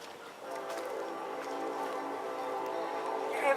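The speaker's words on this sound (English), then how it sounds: "Engineer's laying on that horn, so he must be a rail fan" A passing modern railroad train sounds its horn near a historic agricultural village, one long sustained chord blown steadily and fairly loud for several seconds.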